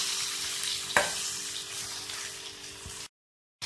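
Ridge gourd and a single tomato sauté in a pan for chutney, giving a steady close sizzle with stirring scrapes and one sharp utensil knock, then a brief cut to silence near the end.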